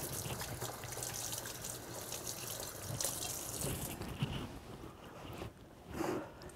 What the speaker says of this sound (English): I'm going to wash my hands off here.